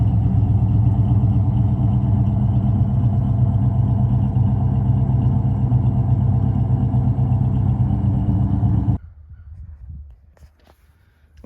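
A 1970 Pontiac LeMans engine runs at a steady, loud idle, burning condensation from its pipes, then shuts off abruptly near the end, leaving only faint low thumps.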